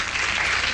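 Applause from a television host on a television program, a steady wash of dense clapping that fills the whole short moment at even loudness.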